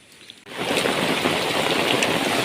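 Rain sets in abruptly over a forest on a jungle trek, then holds as a steady, dense hiss of falling drops close by, with no talk.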